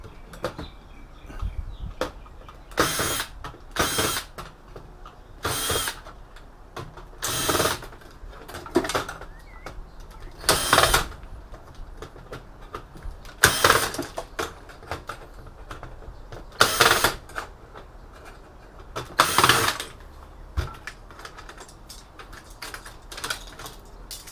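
Screws being driven out to free a motherboard from a scrapped Octek server, with short bursts of a whirring power screwdriver repeating every few seconds between quieter clicks and handling of metal parts.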